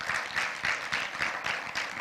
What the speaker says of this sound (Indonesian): Yang sudah angkat tangan, kita beri tepuk tangan untuk kebaikan Tuhan.